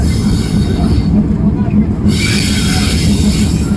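A train at Pirganj railway station in Panchagarh district, northern Bangladesh, rolls past close by with loud rumbling, rhythmic wheel clatter and metallic squealing that runs throughout the short stretch.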